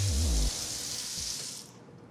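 A kitchen sink faucet runs a steady hissing stream of water that cuts off near the end, preceded by a brief low voice at the start.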